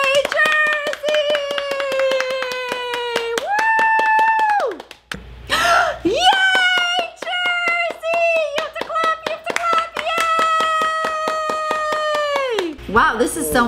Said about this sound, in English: Okay, everybody clap for Jersey